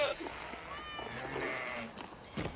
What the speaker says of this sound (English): I can't hardly stand to be around these damn sheep